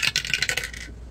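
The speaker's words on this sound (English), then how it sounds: "So we're gonna roll the dice." Six-sided dice rattle and tumble across a hard surface in a quick burst of bright clicks for most of a second, then settle into quiet.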